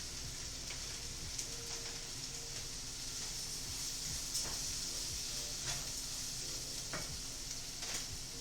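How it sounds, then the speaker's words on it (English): Rice toasting in a hot pan for risotto, sizzling steadily while a utensil stirs and scrapes it in irregular strokes, close and continuous with no talking. "Now we can go ahead and add the rice."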